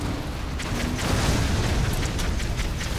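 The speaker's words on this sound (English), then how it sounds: "if you notice, there are explosions going around" Explosions in the Post Apocalyptic Mayhem car-combat game, a continuous roaring rumble of blasts with a few sharper bursts layered on top, loud and dense throughout.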